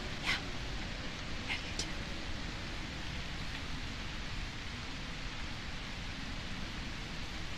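Rain in the survival horror game A Quiet Place: The Road Ahead, a steady soft hiss of falling water filling the whole clip, with a few faint brief ticks near the start and no talking.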